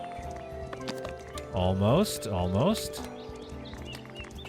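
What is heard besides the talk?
horse hooves clip-clopping in Foundation video game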